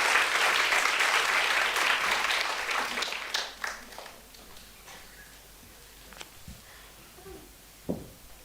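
An evening lecture audience claps to welcome a speaker to the podium. The applause is loud and full for about three seconds, then fades into a few scattered claps and small knocks.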